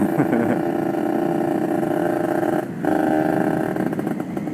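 A Kawasaki Ninja RR two-stroke motorcycle with a lathed magnet revving steadily up close, its buzzing engine note holding nearly constant with a brief dip near the end, no talk over it.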